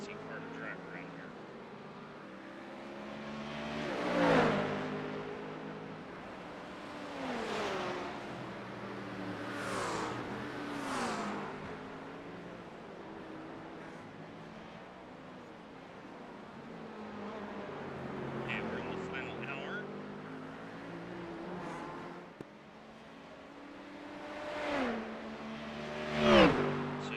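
Large land yacht car rolling through Long Beach streets, a steady engine drone with a few louder revs, heard from inside the car under near-constant conversation.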